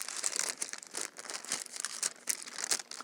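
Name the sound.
cutting paper to line a cake tin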